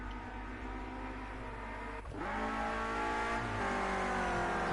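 Clio Cup race cars circuit racing at Oulton Park, a dense, steady engine roar of several cars with a swelling surge midway as revs climb, loud and continuous with no talk.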